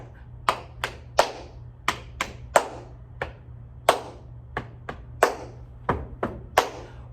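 Sharp body-percussion hits, claps mixed with chest and thigh pats, fall in a steady rhythmic pattern of about fifteen strokes, close and fairly loud, over a low steady hum with no talking.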